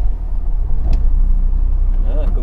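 A heavy diesel engine of an old all-wheel-drive Iveco Magirus truck rumbles loudly and steadily close by, its low drone swelling slightly as it revs, with a voice speaking briefly over it.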